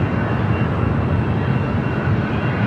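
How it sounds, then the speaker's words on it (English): An Airbus A330-200 on flight 810 from Honolulu, arriving on the south side at Los Angeles airport, makes a steady, loud broadband engine roar throughout, close and unbroken, with no voices. "On the south side, the A330-200."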